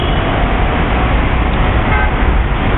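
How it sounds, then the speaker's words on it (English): Steady, loud traffic rumbles through a busy Chinese intersection where cars turn through pedestrians and bikes, a dense continuous road noise with no distinct horn blasts standing out. "You hear pretty much non-stop horns here."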